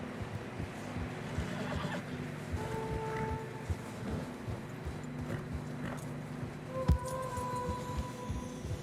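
A horse in Red Dead Redemption 2 plods through fresh snow on a narrow trail, with steady hoofbeats, a few tonal whinnies and snorts, and wind in the background; a single louder thump near the end.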